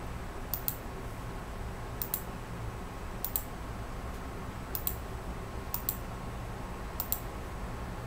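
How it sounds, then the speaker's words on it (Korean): Sharp keyboard clicks sound at roughly one-second intervals as the Ctrl, Alt and Delete keys are pressed, each press a crisp, close tick over a quiet room hiss. "딜리트 키 3개를 한꺼번에 누르고 해주시면은"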